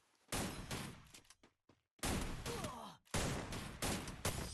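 Free Fire gunfire bursts out in three loud volleys of rapid automatic shots separated by brief pauses, close and sharp, with little else underneath.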